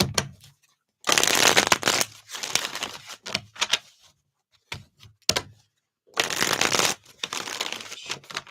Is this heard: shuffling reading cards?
yes